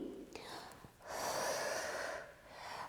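A person doing morning exercises for ankylosing spondylitis gives a long, steady breathy exhale close to the microphone, preceded by a brief sharp intake of breath.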